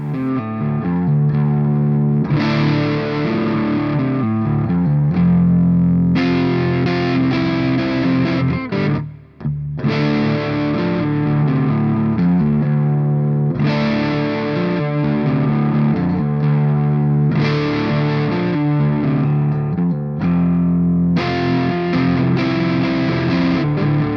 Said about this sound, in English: that is the JOYO Bantamp XL Tweedy amplifier, 20 watts, very, very loud